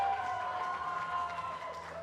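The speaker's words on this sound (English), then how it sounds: "We hear a big cheer in the room." A room full of Swedish supporters at a youth darts event lets out a sustained crowd cheer, a broad wash of voices and some clapping, steady and fairly distant, tapering slightly toward the end.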